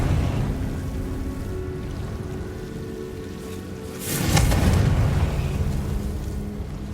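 A Confringo spell explosion in Hogwarts Legacy bursts out partway through as a single broad, booming blast over a steady rumbling background, then lingers as a noisy roar.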